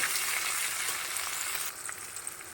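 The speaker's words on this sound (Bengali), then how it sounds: "দিয়ে দুটো ভালো করে মিক্স করে ভেজে নেব" Onion and tomato fry together in an oiled pan while paneer is cooked, giving a steady close crackling sizzle that drops to a softer hiss partway through, with no voices.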